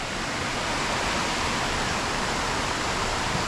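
A popular waterfall at Stainforth pours over mossy rocks, a steady, dense, loud rush of falling water that fills the scene without pause or voices.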